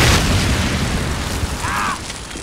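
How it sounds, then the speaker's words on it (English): Rocket explosions in a war video game, a loud continuous rumbling boom that fills the whole stretch and slowly fades, with a brief tonal whine near the end. "I'm pounding them now with my second line of rockets."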